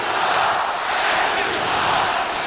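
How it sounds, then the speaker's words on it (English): A hockey arena crowd roars in sustained, loud disapproval after a cross check, a dense wall of booing and shouting that holds steady throughout without a break. "I'm sure you'll hear what the crowd thinks about that in a moment"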